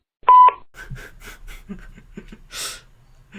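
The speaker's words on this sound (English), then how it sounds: "Now give me that beep." A short electronic beep sounds once, then breathy, faint noises follow, like someone exhaling and shuffling near a phone.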